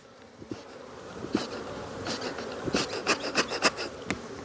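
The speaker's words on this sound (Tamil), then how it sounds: "இந்த தேனீக்களை ஃபுல்லாக அப்படியே கீழே உள்ள பெட்டிக்கு உதறி விடணும்" Honeybees buzz as they are shaken from a frame down into a hive box, a close, swelling drone with bursts of louder buzzing and soft rubbing knocks of the frame.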